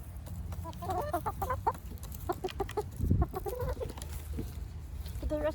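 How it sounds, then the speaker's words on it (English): Six backyard chickens cluck and murmur in a busy, overlapping chorus close around their keeper at feeding time, with steady wind noise underneath. "With just 6 chickens swarming me"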